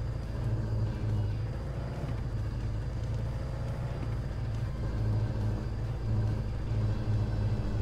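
A car engine in the 80s-style game American Theft 80s hums with a steady low rumble while driving around, continuous and even throughout with no talking.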